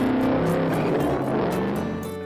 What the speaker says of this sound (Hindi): चिंटू उस मिनी बाइक को लेकर सीधा पेट्रोल पंप गया।